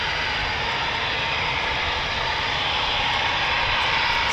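A Eurofighter Typhoon FGR4 jet roars steadily overhead during evening night flying at RAF Coningsby, a loud continuous engine rumble with broadband hiss filling the whole stretch and no talk.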